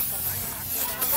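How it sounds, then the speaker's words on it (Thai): A can of cooling spray releases one brief, close hiss of mist lasting about a second. "อันนี้สเปรย์เย็นเย็นด้านนอก"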